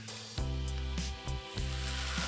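Onion with ginger garlic paste sizzles steadily in a pan, a quiet continuous frying hiss broken by a few soft stirring knocks, with no talking.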